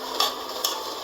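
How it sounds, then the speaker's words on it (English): A spoon scrapes and stirs through a pot of beans and corn porridge as the cooked beans are broken down, giving two soft, brief clinks over a quiet simmering hiss. "I'm using spoon to break the beans."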